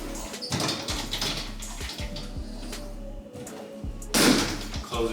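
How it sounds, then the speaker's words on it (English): A pantry door pushed shut after a hinge adjustment, giving a firm close with a sharp knock near the end amid low room noise. "Close the door, a little bit of a push there, but bam, the door is done"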